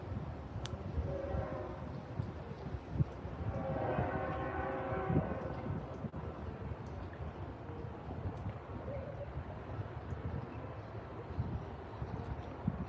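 A train rumbles steadily past in Stuart, a deep continuous roar with a brief horn tone for a road crossing rising over it partway through.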